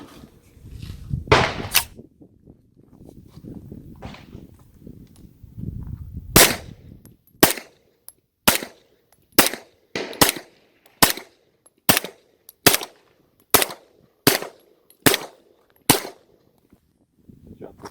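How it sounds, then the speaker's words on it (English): An Extar EP45 pistol fires a steady string of sharp, loud single shots at roughly one per second, each crack clean and isolated, after an earlier stretch of handling noise and low talk. "we're going to go ahead and shoot 300 rounds"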